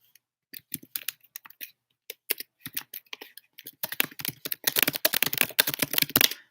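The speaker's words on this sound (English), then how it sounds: "He's typing." Computer keyboard typing, close and crisp: sparse, irregular keystrokes at first, then a fast dense burst of clicking toward the end, with no voices.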